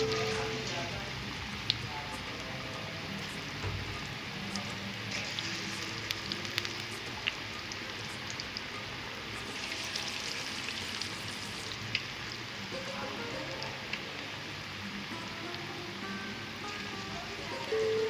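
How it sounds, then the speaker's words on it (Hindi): Potato pakoras frying in hot oil over lowered heat, giving a steady dense sizzle with fine crackling pops throughout, fairly close and even, with a voice heard faintly at times. "अब मैं इनको फ्राई होने देती हूँ।"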